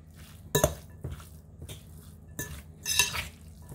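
Tuna being stirred and mixed in a bowl with chopped onion, several distinct clinks and scrapes of a utensil against the bowl, close and fairly loud.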